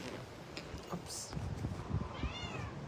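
A cat meows briefly over a noisy indoor background during a live stream, with some low murmuring and movement around it.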